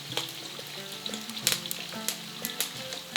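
Onions frying in a kazan, stirred now and then, with a steady close sizzle broken by scraping clatters of the utensil against the pot.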